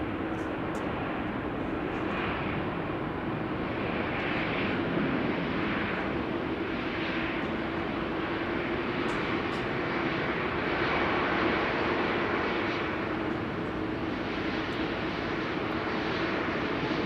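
An Airbus A321neo from Copenhagen rolls out after a slightly bouncy touchdown at Amsterdam Schiphol, its engines giving a steady, moderately distant roar that holds evenly throughout.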